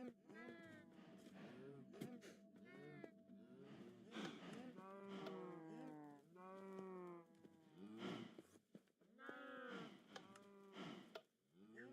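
Cows in the Minecraft video game moo repeatedly in a lively overlapping series of low, drawn-out calls, clear and close, with short pauses between bursts and no talking.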